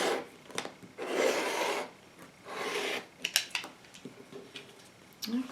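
A blade slices through blue quilting fabric strips in a few separate rasping strokes, each lasting under a second, with soft rubbing and handling noises between them, quiet and close, no talking.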